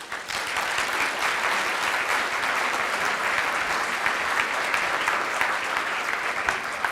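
An audience claps steadily and loudly for lecturer Jane Lubchenco at the Storer Lecture, a dense, even wash of applause that holds for the whole stretch without a break.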